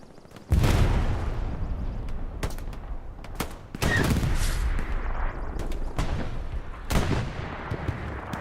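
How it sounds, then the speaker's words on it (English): Explosions and gunfire from a Company of Heroes multiplayer battle on Omaha Beach boom in several sharp bursts, with heavy blasts near the start and middle and scattered shots between them, all without talking. "Oh, we have an explosion over there to the rears."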